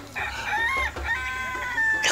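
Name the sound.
rooster crowing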